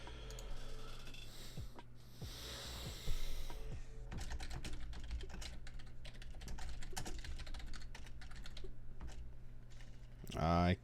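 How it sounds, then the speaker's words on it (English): Rapid, continuous clicking of a computer keyboard being typed on, close and fairly quiet, with a faint voice under the keystrokes. "when I'm typing, I will just kind of mash the keyboard in the right kind of direction"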